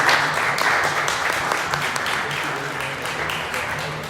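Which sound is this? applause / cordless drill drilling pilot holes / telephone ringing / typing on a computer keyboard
applause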